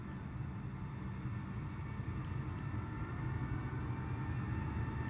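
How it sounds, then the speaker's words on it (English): A KLM airliner taxiing in Microsoft Flight Simulator 2020 produces a steady, low jet-engine rumble and hum, moderately distant and unbroken, with no talk. "KLM over there, just taxiing round."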